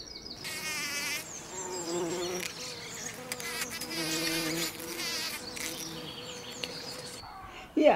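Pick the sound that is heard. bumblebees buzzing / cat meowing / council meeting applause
bumblebees buzzing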